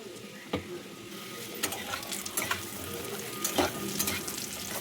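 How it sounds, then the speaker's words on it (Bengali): Boiled taro (kochu) frying in a pan while being stirred, a close steady sizzle punctuated by irregular scrapes and knocks of the spatula. "এবার কচুটাকেও একটু ভালো করে ভেজে নেবো।"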